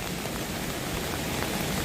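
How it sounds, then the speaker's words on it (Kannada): Heavy rain falls steadily at a hill ghat road near Ramanagara, a dense continuous hiss with no talk. "ಮಳೆ ಜೋರಾಯಿತು."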